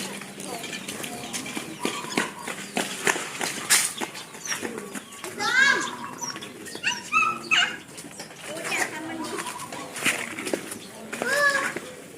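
A puppy at a modern house barks in short, scattered yaps and whimpers over several seconds, moderately close, while people talk nearby.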